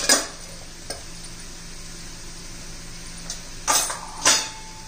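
A faint steady sizzle of onions frying in a pan, with a few sharp spoon clinks and scrapes as turmeric and red chili powder are stirred in, no talking.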